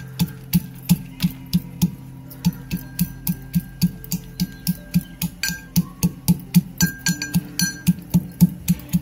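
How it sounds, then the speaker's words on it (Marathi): A pestle pounds almonds in a mortar with steady, evenly spaced, sharp knocks, close and clear, about two or three a second, with a few faint clinks in the background. "आपला गुळ वितळतोय तोपर्यंत आपण बदाम आहेत ते कुटून घेऊया."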